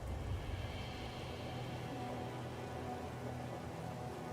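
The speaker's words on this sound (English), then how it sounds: "Ooh, it's raining." Rain in a factory-building video game falls as a faint, steady, even hiss with no breaks and no talking.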